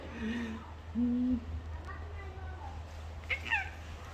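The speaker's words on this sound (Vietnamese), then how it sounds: "Mèo." A cat gives a few short, rising meows, one near the start and a quick pair near the end, over a steady low hum with people talking softly in the background.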